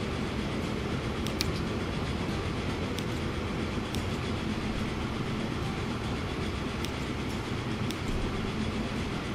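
Freight train rolling steadily in the Transport Fever 2 video game, a continuous loud rumble of wheels and wagons with faint periodic clicks, no voices.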